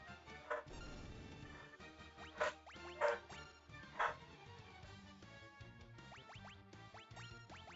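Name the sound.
dogs barking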